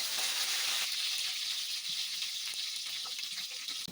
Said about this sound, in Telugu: ఆయిల్ బాగా వేడైన తర్వాత కరివేపాకు వేసుకోవాలి.